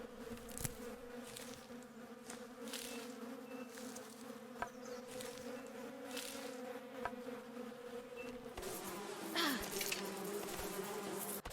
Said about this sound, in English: I also found bees.